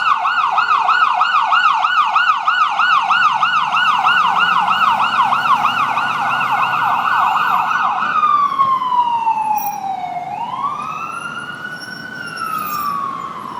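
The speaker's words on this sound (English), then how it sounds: "And look, here's an ambulance." An ambulance siren on a Lower West Side Manhattan street wails loudly in rapid rising-falling yelp cycles, then shifts to a slower sweeping wail as it passes, with road traffic rumbling underneath.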